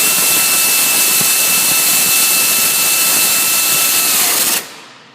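A power tool tightens an alternator bolt on a Ford Taurus 3.0L 12v engine with a loud, continuous, high-pitched whirring whine close by, which cuts off abruptly near the end.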